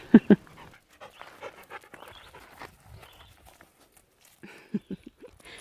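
A dog pants and scampers across a garden lawn on its first day able to run outside, with two sharp close bursts at the start and scattered soft breathy huffs and footfall sounds after.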